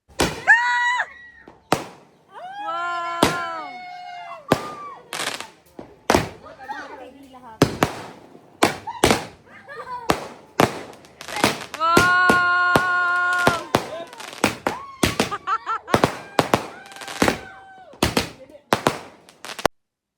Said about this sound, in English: we light some fireworks before heading to the Idul Fitri parade